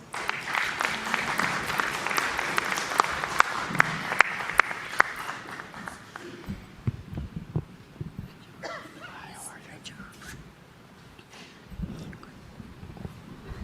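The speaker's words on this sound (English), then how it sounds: "Let's give her a round of applause." Applause from attendees at a First Nations annual general meeting, clapping for several seconds that fades out, followed by quieter room noise, shuffling and murmuring voices.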